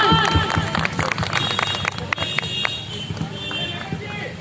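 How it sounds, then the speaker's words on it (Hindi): Audience applause at a ceremony where a memento is being presented, sustained dense clapping with a voice speaking over it. "जोरदार तालियां, कम ऑन।"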